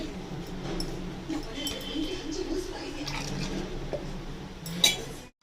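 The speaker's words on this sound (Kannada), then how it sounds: "ಈಗ ಸ್ವಲ್ಪ ಮಿಕ್ಸಿ ಕ್ಲೀನಾಗಿ ತೊಳ್ಕೊಂಡು ಅದರಲ್ಲಿರೋ ಕ್ಯಾರೆಟ್ ಎಲ್ಲ ತಗೊಳ್ಳೋಕ್ಕೆ ಸ್ವಲ್ಪ ನೀರು ಹಾಕಿದ್ದೀನಿ." Water sloshing inside a mixer jar as it is rinsed out to collect leftover carrot, with clinks of the jar and utensils and a sharp knock near the end, heard under a voice.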